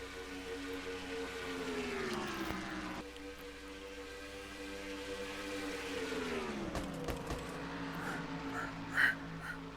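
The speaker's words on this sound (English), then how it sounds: "Love the sound of these engines right there here at Atlanta Motor Speedway" Stock car engines at Atlanta Motor Speedway drone in a sustained roar with two falling-pitch passes as cars go by, steady and moderately distant, with faint background commotion.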